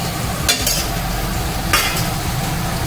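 Fried potato pieces stirred with spices in a pan over low heat, heard as a steady loud sizzle with two brief scraping strokes of a spatula.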